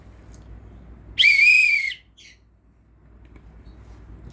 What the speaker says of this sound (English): First thing we have on our fanny pack is a whistle.